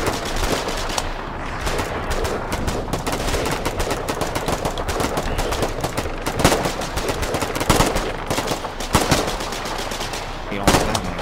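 Sustained automatic gunfire in the Foxhole war game during an assault on an enemy pillbox, rapid dense bursts of shots rattling continuously and loudly with heavier booms mixed in, no talk over it.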